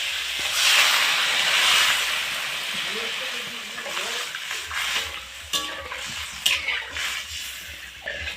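Water poured into a pan of frying spices for Bengali dhokar dalna sets off a loud hissing, steaming sizzle that gradually settles into quieter bubbling with a few utensil clinks, while a voice talks intermittently.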